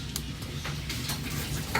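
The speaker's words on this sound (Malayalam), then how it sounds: "നമുക്ക് ഇങ്ങനെ ഇങ്ങനെ ഇങ്ങനെ ഇങ്ങനെ ഒന്ന് ഇളക്കി കൊടുക്കാം" Tuna fish head curry with onion, tomato, green chilli and curry leaves is stirred in a pan, a faint sizzle under soft, repeated scraping strokes close by.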